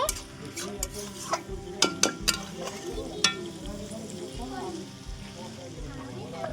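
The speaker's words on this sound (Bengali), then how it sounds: "মাংসটা একটু ভালো করে কষিয়ে নেব।" Meat is stir-fried in a pan at home, with soft sizzling and scraping stirs broken by sharp clinks of the spatula against the metal, fairly quiet overall.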